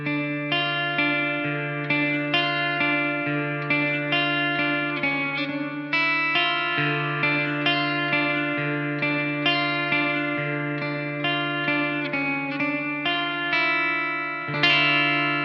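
Guitar played through a Blackstar St. James 6L6 amp on its clean channel, steady strummed chords with shimmering chorus-like effect and sustained ringing notes, loud and close, no talking.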